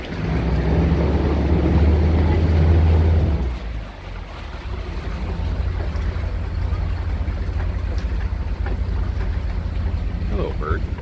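A steady low engine rumble of a boat crossing a lake at Disney's Fort Wilderness, with wind and water noise; a louder rushing passage fades early, then constant motor drone.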